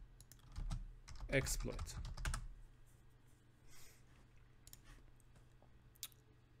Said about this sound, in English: So let's type here OpenClinic